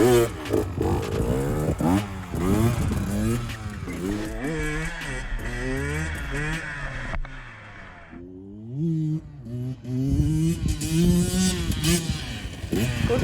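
A KTM EXC 150 TPI two-stroke dirt bike held in a wheelie revs and bogs in rising and falling sweeps nearby, the engine pitch climbing and dropping repeatedly, then quieting briefly before picking up again.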